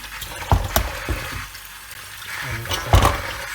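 Tap water runs over fresh zucchini being rinsed by hand in a rural home kitchen, with splashy bursts between quieter stretches of flow, close and moderately loud.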